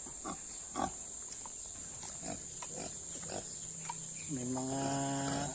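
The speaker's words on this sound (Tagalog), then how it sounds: "Ito yung ating alagang baboy na native kabayan." A native pig grunting in a farm pen, low snorts and grunts repeating under steady insect buzzing, followed by a rising, tonal squeal near the end.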